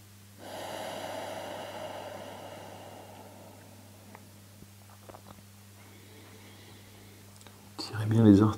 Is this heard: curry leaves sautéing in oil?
no